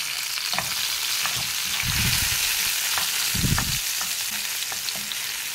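Garlic and tomato hit hot oil in a pan with a steady sizzle, punctuated by a few bursts of louder frying and stirring as ingredients drop in and are tossed, close and continuous.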